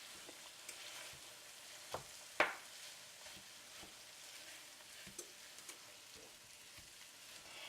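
Corned beef from a large can sizzles softly in a hot pan, a low steady frying hiss broken by a few sharp scrapes and taps of stirring.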